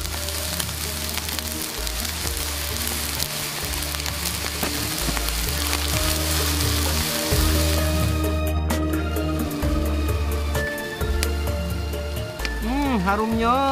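Soy sauce sizzles loudly and continuously as it hits fried rice and egg in a hot pan, crackling like steady rain, while background music plays throughout.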